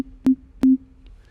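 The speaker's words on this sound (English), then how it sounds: "I'm choosing a sine wave." A low sine-wave synth tone on a Synthstrom Deluge, set up for drum synthesis, sounds in two short, clean, pure beeps with brief clicks at their onsets, separated by quiet gaps.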